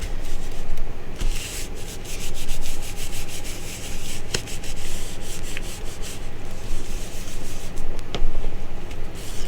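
Hand rubbing aluminum foil laid over a marker print, using the heel of the palm; close, continuous crinkly scraping strokes in uneven rhythm with occasional sharper crackles.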